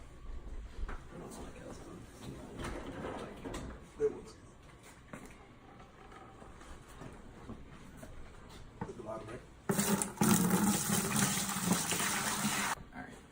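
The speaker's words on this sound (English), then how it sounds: "So we got our mash water up to 160 and we're gonna pour it" Hot home-brew mash water, heated to about 160 degrees, gushes into a tub in a loud, close three-second pour near the end, after a stretch of quieter handling sounds and talk.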